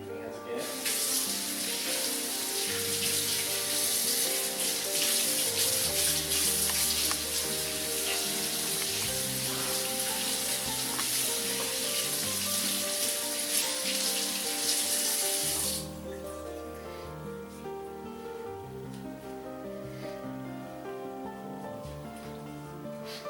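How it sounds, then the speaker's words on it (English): Tap water runs steadily into a kitchen sink as hands are washed between steps of preparing a stuffed turkey breast, a loud continuous stream that cuts off abruptly partway through, leaving quieter room sound. "Wash your hands again."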